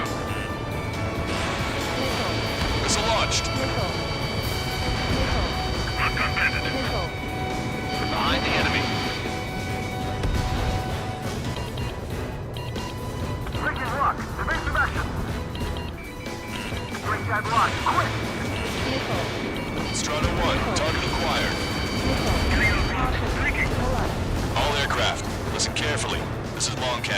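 Missile launches and heavy explosions in Ace Combat 7, repeated booming blasts and whooshes over a continuous jet engine roar, with radio voices and lock-on warning tones sounding throughout.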